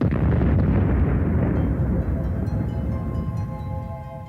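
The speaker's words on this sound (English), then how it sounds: "But they end their life in a huge explosion," A supernova explosion sound effect rumbles as a loud, deep, sustained boom that slowly fades over several seconds, with no talk over it.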